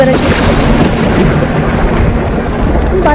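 A stormy soundscape of rolling thunder, rushing wind and rain plays loud and continuous throughout, a dense unbroken rumble with no clear pauses.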